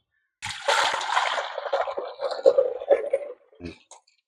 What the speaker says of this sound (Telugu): ఇలా శుభ్రంగా నాలుగైదు సార్లు కడగాలి